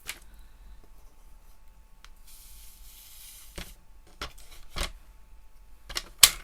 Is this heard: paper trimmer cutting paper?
yes